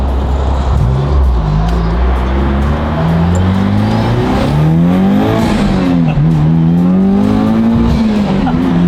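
A supercharged car's engine accelerates while driving, its loud, close whine climbing and dropping through repeated gear pulls over a steady roar.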